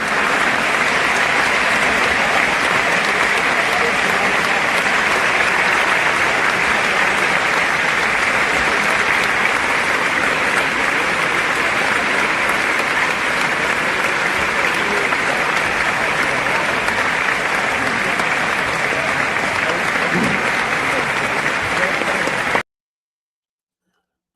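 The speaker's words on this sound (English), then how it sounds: "a round of applause to my brother" Audience round of applause, a steady, dense wash of clapping that holds at even loudness for over twenty seconds before cutting off abruptly.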